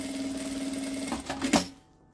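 Sewing machine stitching a seam on a small handmade bag, a steady close mechanical whir for about two seconds with a couple of brief louder clacks near the end before it stops.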